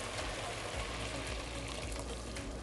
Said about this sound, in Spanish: Aquí le voy a agregar agüita